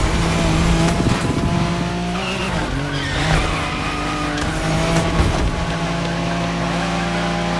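Race car in the video game The Crew Motorfest, a Nissan GT-R nicknamed Godzilla, roaring loud and close with engine revs and repeated tire squeals and skids over steady game music.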